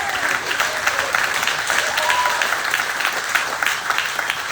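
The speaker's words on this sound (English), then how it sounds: "So, huge round of applause." An outdoor award ceremony crowd in Old Town Lansing gives a lively round of applause, brisk, dense clapping with a few sharp claps and faint voices or whoops mixed in, holding steady throughout.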